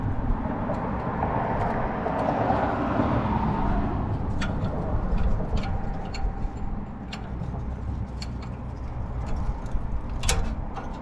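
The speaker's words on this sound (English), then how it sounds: "traffic is crazy over here today" Road traffic passing near a garage where brakes are being worked on, a steady rumbling wash of vehicles with scattered metallic clicks and taps close by.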